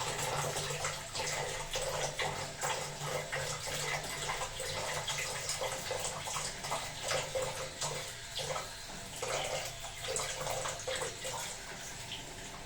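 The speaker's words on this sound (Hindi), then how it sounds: "अभी तो पानी भी ठंडा आ रहा है।" Water runs steadily from the tap of an instant electric water heater that is giving electric shocks and delivering cold water, a continuous close splashing gush with a faint low hum beneath.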